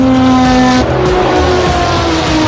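A Porsche 917K racing car in Gulf livery drives past with a loud, continuous engine howl, its pitch shifting and dipping as it moves, close and strong throughout.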